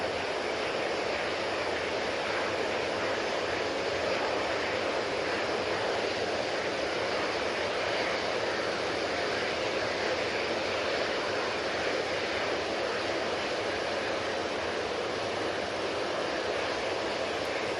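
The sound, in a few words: easyJet Airbus A320ceo departing Manchester Airport for Istanbul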